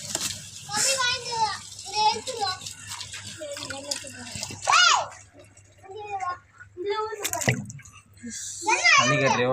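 Water splashes and runs while a fish tank used for alligator gar is washed. Children chatter and call out loudly over the watery sounds throughout.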